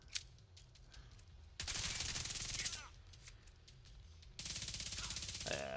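Assault rifle fire in the video game The Division 2, two sustained automatic bursts of rapid, even shots separated by a quieter stretch of game ambience, fairly faint overall.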